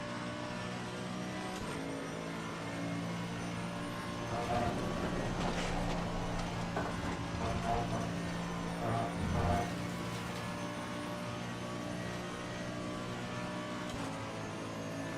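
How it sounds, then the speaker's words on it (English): A Mercedes race car engine drones steadily through hot laps at Spa, a sustained mid-distance hum with brief swells in pitch around the middle, mixed with faint tyre and track rumble and no talk. "I just love the sound of this Merc."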